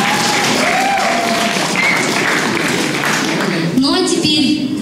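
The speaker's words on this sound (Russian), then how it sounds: "И все остальные аплодисменты города Юрьевца." An audience applauds at a school rock festival, a dense wash of clapping heard under a presenter speaking over the crowd.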